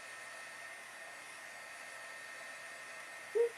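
Hair dryer blowing steadily to dry watercolor marker ink on a card, an even close whoosh of airflow with a brief small bump at the very end.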